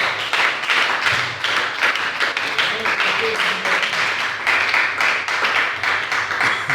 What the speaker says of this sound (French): Est-ce qu'on peut applaudir pour la parole?